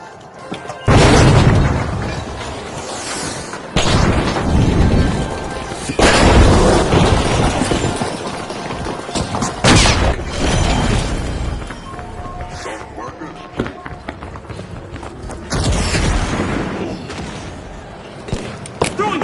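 A deployed charge explodes in an arena video game, giving several heavy booming blasts with crackling, shattering tails spread over the stretch. Quieter rumbling and scattered pops sit between the blasts.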